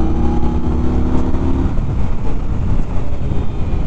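An Indian Scout Bobber motorcycle, a 2019 model, on a test ride. Its engine drones loudly and steadily with a rising harmonic whine, then eases into a rough rumble. Wind noise runs throughout and there is no talking.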